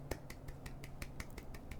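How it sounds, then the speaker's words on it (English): Sparse, quiet claps land one after another at an unhurried, fairly even pace, each sharp and brief against a faint background hum. "Golf clap all around."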